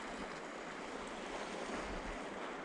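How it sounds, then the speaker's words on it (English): Wind gusting over a shoreline on the Northumberland coast with steady surf washing in, a continuous broad roar of moderate loudness with no talk. "that wind's shifted direction now, so it is like a south-southwesterly"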